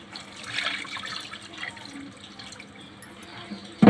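Pouring water into a pot of fish curry until the pieces are covered gives a gentle, steady trickle and splash. It swells early, then settles, and ends with a sharp knock.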